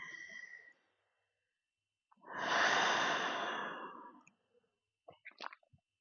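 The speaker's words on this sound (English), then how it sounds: "I'm taking a few breaths here." During a bedtime yoga stretch, a single slow, deep breath is drawn and released in a long, soft airy rush, close and quiet, followed by a few faint clicks.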